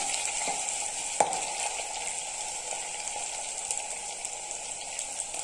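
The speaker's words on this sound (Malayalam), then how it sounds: "കാന്താരി മുളക് നന്നായി ഒന്ന് വഴച്ചെടുക്കാം" Bird's eye chilies sizzle steadily in hot oil in a pan for a fish curry, a continuous close frying hiss with a few faint stirring clicks.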